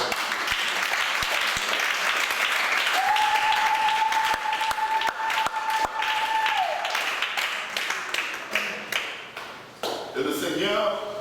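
A church congregation claps and cheers in sustained, lively applause, with a held musical tone rising partway through and voices mixed into the crowd noise.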